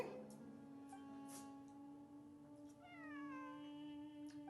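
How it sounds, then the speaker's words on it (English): A cat meows in the Genshin Impact video game, giving a soft, drawn-out call with a falling pitch near the end against a quiet, faint background of game ambience. "It really is a cat."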